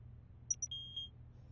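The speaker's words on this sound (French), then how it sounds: "Garde bien le thermomètre sous ta langue jusqu'à entendre un bip." A few short, high electronic beeps from a digital thermometer, two quick chirps followed by a longer tone, over a quiet low hum.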